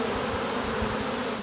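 Honey bees swarm around a beehive in a dense, continuous buzzing drone that stays loud and close throughout, with no voices.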